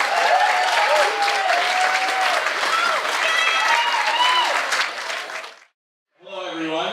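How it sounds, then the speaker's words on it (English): Guests applaud the maid of honor at a wedding reception, dense sustained clapping with some cheers for several seconds, then cutting off abruptly before a voice begins. "Let's get a round of applause for the maid of honor,"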